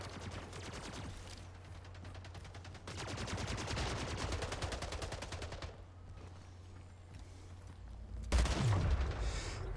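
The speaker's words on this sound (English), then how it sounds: "Was that a shotgun, maybe? That felt like a one-hit kill." Gunfire in the video game Splitgate: rapid bursts of shots come in rattling stretches, then a single heavier blast lands near the end, all fairly close.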